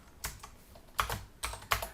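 Keys on a computer keyboard clatter in four short bursts of quick taps, close and moderately loud, with quiet pauses between.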